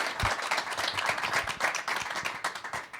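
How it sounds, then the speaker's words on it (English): Crowd at the announcement that the 2026 NHL Draft will be held in Buffalo, applauding and cheering steadily for three seconds, a dense wash of clapping heard up close. "We love the cheers"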